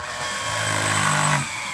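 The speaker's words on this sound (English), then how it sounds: "I'm just going to fasten a screw into the bottom of this" A power drill drives a screw into the bottom of a board, a short whirring burst that rises in pitch for about a second before stopping.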